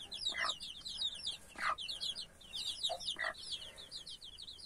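Several newly hatched black carijó caipira chicks peep in a continuous stream of high, repeated chirps close by, with a few louder calls mixed in and no talking.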